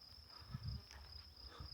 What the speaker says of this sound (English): The quiet, only the crickets take the quiet around, and the cows too.